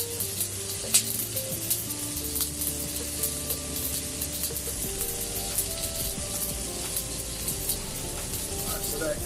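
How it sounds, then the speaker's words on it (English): Scrambled eggs fry in a pan with a steady, close sizzle and crackle throughout, joined by faint clinks and stirring noises. "So we've got our scrambled eggs on."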